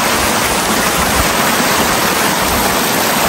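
Steady rain pours down outdoors over a work park area during a flood, a dense, even hiss of falling water that stays constant throughout with no voices.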